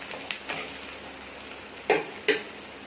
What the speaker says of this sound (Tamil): கொஞ்சமாக கருவேப்பிலையும் சேர்த்து வதக்கிக்கலாம்